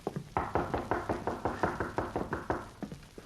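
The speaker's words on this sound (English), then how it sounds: "knocked at the door of the Cutler home" Steady knocking on the door of a home in a radio drama, roughly a dozen evenly spaced raps of moderate loudness, close and dry, with no voices.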